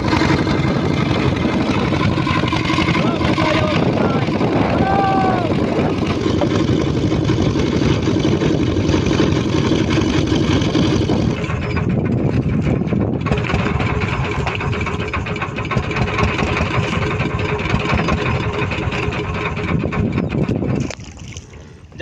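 Motorboat engine running on a Sundarbans river near the Matla, a loud, steady droning hum with wind and water noise that drops away near the end.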